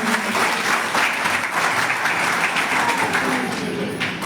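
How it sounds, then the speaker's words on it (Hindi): Dense, steady applause from a large crowd at an International Women's Day event fills the space, even and sustained for several seconds before tapering slightly. "इसके लिए जोरदार तालियां।"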